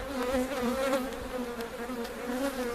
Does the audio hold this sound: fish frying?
no